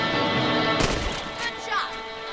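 A single rifle shot in the video game Red Dead Redemption, one sharp crack partway through over ongoing outdoor game ambience.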